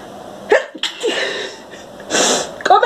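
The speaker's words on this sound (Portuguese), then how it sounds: "Comecei a espirrar do nada, fazer nada." A person sneezes several times in quick succession, loud and close, with sharp bursts and brief gaps between them and no speech.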